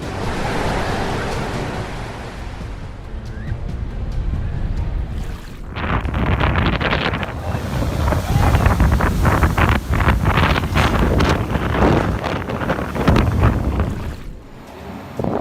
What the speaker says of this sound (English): The video recorded the scene of unusual large waves crashing onto the shores of Piura and Tumbes, Peru.